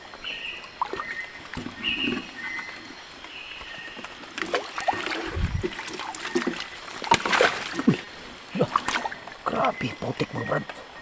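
Wading through knee-deep water and mud at night, with irregular close splashes and sloshing steps under a man's speech.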